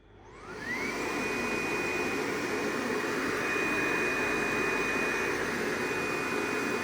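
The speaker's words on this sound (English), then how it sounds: "First, we open the vacuum." The vacuum suction on a Cobra-69S single-pass direct-to-packaging corrugated cardboard printer spins up with a rising whine, then settles into a loud, steady rushing drone with a thin high tone on top.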